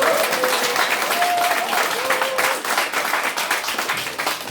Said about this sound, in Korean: 우리 조원진 후보님에게 우리 부산시당 당원 동지님들께서 응원의 박수 한번 부탁드리겠습니다